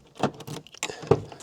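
Car keys jangle in short, close metallic bursts for a Honda Prelude, third generation, on a ring holding just two keys, with several quick rattles and brief pauses between them.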